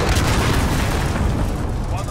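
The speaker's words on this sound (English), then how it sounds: "Enemy cruise missile." A big in-game enemy cruise missile blast, a dense continuous low boom and rumble filling the whole stretch at steady high loudness, with game voice chatter mixed in underneath.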